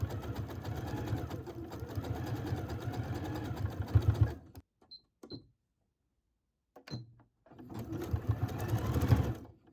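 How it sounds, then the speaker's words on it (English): A sewing machine runs a zigzag top stitch along stretchy yoga-pant fabric. It makes a fast, rhythmic mechanical chatter in two bursts, separated by a near-silent pause with a few small clicks. "I just did the zigzag stitch as a top stitch all the way along here."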